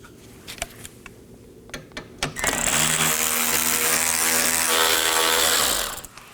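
A few sharp clicks of a ratchet, then a sustained rapid buzzing ratchet as a 7mm bolt spins out of a 2018-2024 Chevrolet Equinox active grille shutter, ending abruptly.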